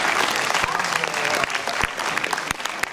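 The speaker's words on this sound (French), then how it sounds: "Applaudissements, Stana, s'il vous plaît." Lively applause from the audience at an award ceremony of a short film festival in Trégueux, sustained dense clapping with a few sharp individual claps standing out, close and steady for the whole stretch.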